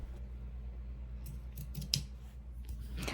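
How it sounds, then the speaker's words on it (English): Scissors snip through extra T-shirt fabric on an angle, a quick cluster of close, crisp cuts over a low steady hum, with one sharper clip standing out. "Now I'm just cutting off the extra piece on an angle."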